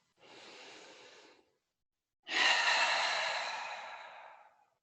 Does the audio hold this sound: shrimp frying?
no